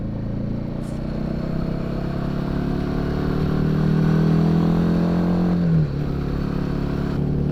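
A Himalayan 450 motorcycle cruises on the highway with a steady engine drone and wind rush, the pitch climbing gradually before dropping abruptly as the rider shifts or eases off.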